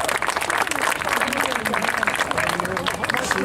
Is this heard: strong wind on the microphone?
no